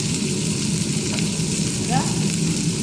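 Red, green and orange capsicum pieces fry in a pan, making a loud, steady sizzle with a brief stirring scrape partway through, close up and without talking.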